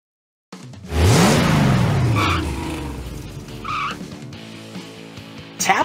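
Engine revving from a monster truck in the Blaze and the Monster Machines mobile game, a loud rising-and-falling roar with a tire-squeal sweep, followed by short game effect chimes as the sound fades.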